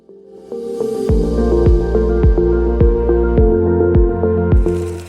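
A Kinze 3600 planter seed meter runs on a test stand, loaded with seed and set to a target rate of 62 thousand. Sharp, evenly spaced clicking thumps repeat over a steady tonal mechanical hum, loud and close.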